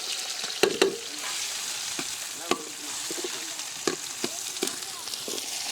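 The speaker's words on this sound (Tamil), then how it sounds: "பொன்னிறமாக நல்லா வெங்காயத்தை வதக்கி எடுத்துக்கலாம்." Onions fried until golden in oil with cloves and cinnamon in an outdoor cooking setting, a soft continuous sizzle broken by occasional ladle clinks and stirring taps, faint and fairly close.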